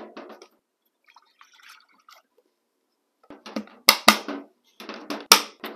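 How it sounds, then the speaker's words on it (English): A quart of water is poured into a Pyrex Freshlock glass food storage container. Faint dribbles come first, then loud, close splashing gushes in short bursts. No one speaks. "I've got a quart of water here. I'll put it into this container real quick"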